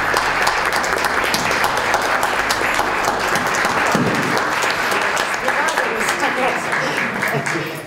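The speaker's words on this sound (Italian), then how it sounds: "Questa è una grande compagnia da applaudire." An audience in a theatre meeting applauds a visiting theatre company, a loud, dense and sustained clapping that fills the room, with a voice faintly mixed in.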